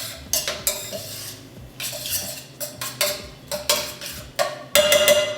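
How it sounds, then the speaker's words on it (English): A spoon scrapes and clinks against a pan while tomato paste is stirred and broken down for chana masala, giving irregular metallic knocks and scraping bursts up close, with no talking. "We've got tomato paste going in. We're gonna break that down a little bit in this pan already."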